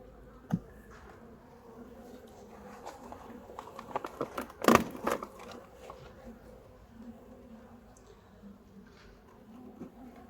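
Steady low buzzing of many honey bees close by at an open hive, with a few sharp knocks and handling noises in the middle.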